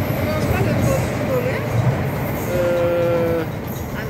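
An Istanbul metro train at Üsküdar station fills the platform with a loud, steady rumble. Partway through, a sustained horn-like tone sounds, and crowd voices mix in underneath.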